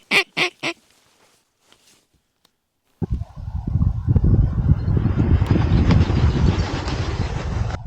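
Snow geese and ducks honking and quacking as a flock comes in to land at sunrise, a dense, loud, continuous clamour of many birds after a few short calls and near-silence.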